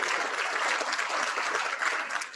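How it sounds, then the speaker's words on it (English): Audience applause at a Rotary Club of Fort Worth meeting, a steady wash of many hands clapping that stays even and fairly close for a couple of seconds, with no voices over it. "A round of applause for Downtown Fort Worth, Inc."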